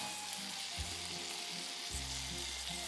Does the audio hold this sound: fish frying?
yes